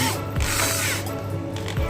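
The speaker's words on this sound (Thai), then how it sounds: "เราเจาะยิงสกูตรง" A power drill drives a screw into the hinge edge of a three-door display refrigerator door, a close, loud ratcheting whir running continuously with brief pitch changes.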